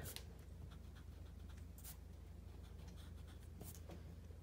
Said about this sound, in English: Go in there and erase.